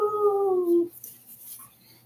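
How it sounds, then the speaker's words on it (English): A small hunting dog lets out a short, drawn-out howl that falls in pitch, close and clear indoors, then fades into quiet room noise. "he's a little hunting dog."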